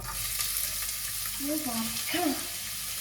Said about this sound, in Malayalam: അപ്പോൾ എണ്ണ ചൂടായിട്ടുണ്ട് നമുക്ക് സവാള ഇട്ട് കൊടുക്കാം കേട്ടോ